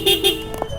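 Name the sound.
newly fitted motorcycle dual horn honking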